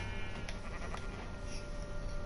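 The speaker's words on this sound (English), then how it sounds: "It was a sheep." A sheep bleats a few times in Minecraft amid a steady hum of game ambience, the calls short and moderately loud.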